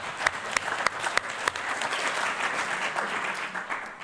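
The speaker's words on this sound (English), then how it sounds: "clap for yourselves, because I heard you clapping" Audience applause at a community conversation on homelessness in Thousand Oaks: a room of people clapping steadily, with a few sharper claps standing out near the start, moderately distant and alone without talk.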